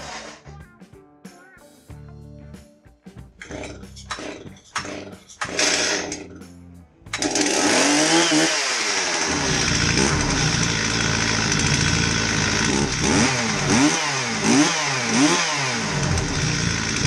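A Stihl MS280 chainsaw, just fitted with a new ignition module, starts up after a few pulls and runs loud and steady close by, revving up and down repeatedly.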